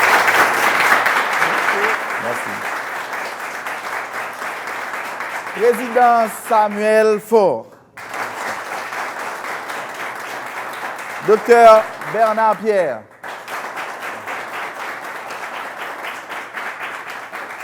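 A studio audience applauds on a Radio Télé Caraïbe talk show, loud sustained clapping at first, then continuing beneath a man announcing names, swelling briefly between his words.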